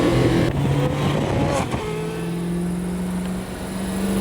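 A Hennessy Venom F5 hypercar drives along a road, its engine holding a steady low drone that shifts pitch partway through, fairly close and loud, with no talking over it.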